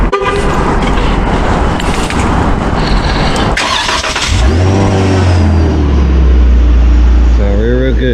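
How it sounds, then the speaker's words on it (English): Dodge Challenger V6 cold start: a starter crank, then the engine catches and revs up loudly before settling into a rising high idle, close by, with a voice talking over the start. "this is a cold start right here"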